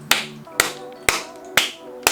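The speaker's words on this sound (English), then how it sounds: "You're gonna clap." A single person claps sharply five times at a steady, even pace, each clap crisp and close, with a faint tonal hum underneath, used to sync audio for recording group motorcycle rides.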